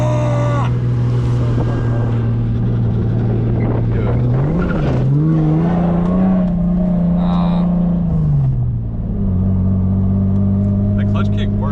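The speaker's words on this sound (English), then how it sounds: "The clutch kick worked, but it didn't get around as much as I want because I got off the gas." A Lexus SC300 drifting with a clutch kick, its engine droning loud and close, the pitch swelling and rising mid-run before dropping back to a steady rev, with talk heard over it.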